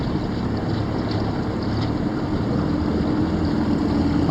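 A bass boat with a powerful outboard engine speeds past on a lake, a broad steady roar mixed with wind buffeting and water noise from a nearby boat.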